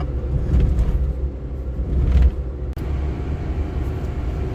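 A slow car engine labors uphill with the air conditioning running, a steady low rumble with broad road noise and a couple of brief surges in effort, heard close from inside the cabin with no talking.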